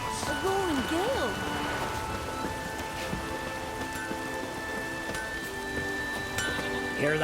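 Steady rain hisses across the whole stretch of a storm with a roaring gale in The Witcher 3's Skellige, with a rumble of distant thunder beneath and a few gliding tonal sounds drifting over the top.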